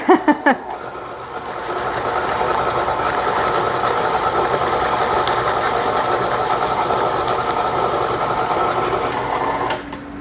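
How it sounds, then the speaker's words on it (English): An electric stand mixer churns thick cookie dough loaded with toffee bits and crisp cereal. The motor whirs steadily up close for about nine seconds, sounding slightly strained, with a few clunks at the start. "And you can tell the mixer is getting heavier."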